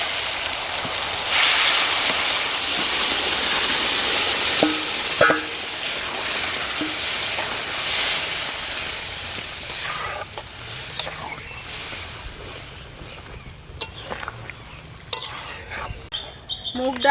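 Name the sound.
lentils added to frying spices in a pan, sizzling and stirring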